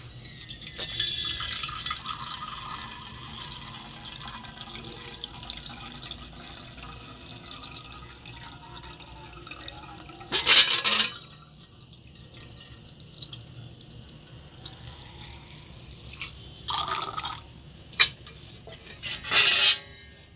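Ganges water is poured into a vessel during a Hindu puja offering, a faint trickling stream under low room noise, followed by a few brief louder splashing pours and clinks near the end, close by with no voices.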